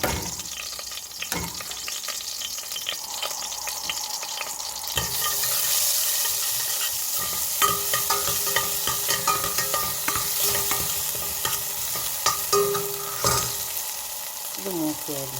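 A thick mutton haleem mixture fries in a pan with loud, continuous sizzling, while a spoon stirs and scrapes it again and again in irregular strokes, up close and with no talking.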